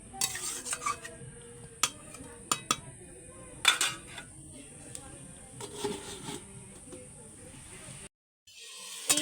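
Meat is stirred and fried down (kosha) in a pan, with repeated clinks and scrapes of a utensil against the pan over a faint sizzle, heard up close.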